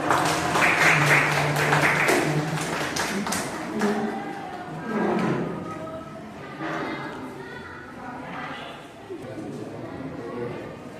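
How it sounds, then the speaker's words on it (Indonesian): A room full of people at a classroom presentation claps steadily, with the applause fading as voices rise and carry on talking over the tail end. "Tepuk tangan dulu."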